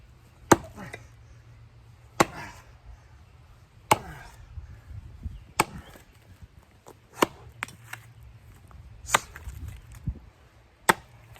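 Evansville double bit axe biting into a massive sycamore under overcast skies, sharp woody chops landing about every one to two seconds, some strikes followed by quick lighter taps, fairly close, with quiet pauses between.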